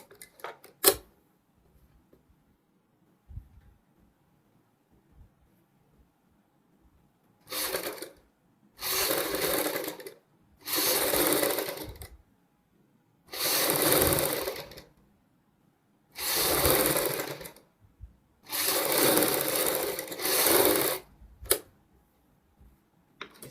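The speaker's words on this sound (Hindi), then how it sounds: "अब हम यहाँ पे सिलाई लगाएंगे।" A sewing machine stitches the neckline of a kurti front neck design, running in six distinct bursts of steady mechanical whirring separated by short pauses, loud and close with no talking.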